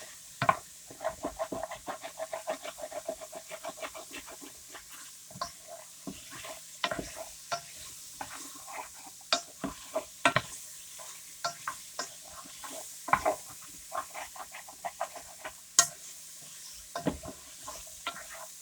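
A spoon stirs and scrapes the bottom of a pot of chicken cacciatore, producing irregular close clacks and scrapes over a faint simmer, with no voices.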